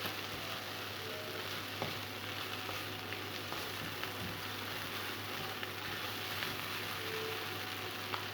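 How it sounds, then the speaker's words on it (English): Chicken sautés in a pan with a steady, even sizzle of frying that runs the whole time at moderate level, with occasional faint clicks and no talk. "Saute."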